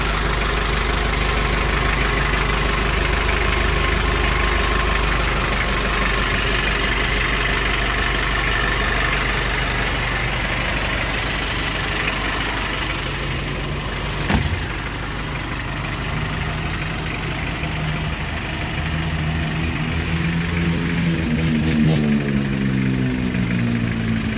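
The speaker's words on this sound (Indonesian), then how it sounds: "Kita coba starter." A 1986 vehicle's engine runs at a steady, close idle, a loud continuous rumble that shifts slightly in pitch toward the end.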